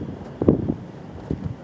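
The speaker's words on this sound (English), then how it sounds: "It's pretty windy out here today." Outdoor wind gusting against a microphone, with low rumbling buffets that swell and fade in a couple of short bursts.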